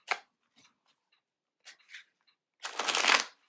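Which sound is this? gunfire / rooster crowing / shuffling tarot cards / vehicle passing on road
shuffling tarot cards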